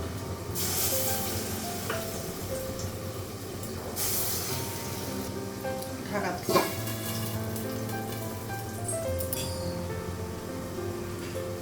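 Pumpkin fritters fry in hot oil in a pan on a gas stove, giving a continuous crackling sizzle and hiss with occasional louder spatters, heard up close.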